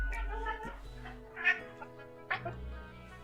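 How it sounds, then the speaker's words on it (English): A cat in the video game The Office: Afterlife lets out a sequence of low-pitched meows, several drawn-out calls close to the mic, with soft background sound between them. "The cat emits a sequence of low-pitched meows"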